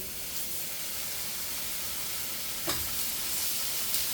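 Pepper steaks searing in a hot pan give a steady, close sizzle and hiss that runs throughout, with a couple of brief sharper pops over the constant frying noise.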